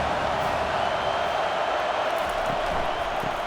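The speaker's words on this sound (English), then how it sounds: "Decibels rising as the crowd gets behind this defense on third down" A stadium crowd in EA College Football roars steadily as the home fans back the defense on third down, a dense, continuous wash of cheering noise at high level with no breaks.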